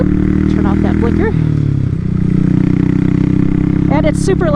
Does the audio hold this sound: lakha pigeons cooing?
no